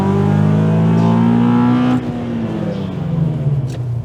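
Modified Mazda 6 MPS and Honda Accord Type S in a rolling race, engines roaring loud and close under hard acceleration with rising pitch, then a gear change and the revs climbing again.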